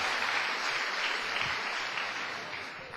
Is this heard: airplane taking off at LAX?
no